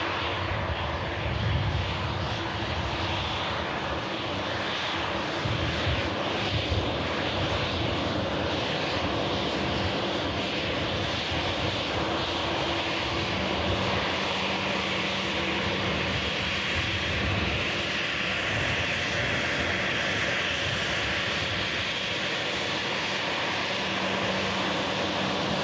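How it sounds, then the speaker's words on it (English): Embraer E195 jet airliner engines at Manchester Airport, a steady broadband roar held at constant loudness through the whole stretch, with no one speaking. "Sending in the Embraer today in the new colours."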